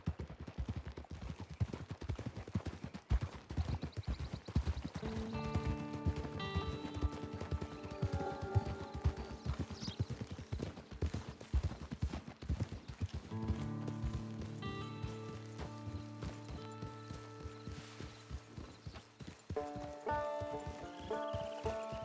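In the Red Dead Online video game, a horse's hooves clip-clop in a steady rhythm along a trail, set under quiet in-game music.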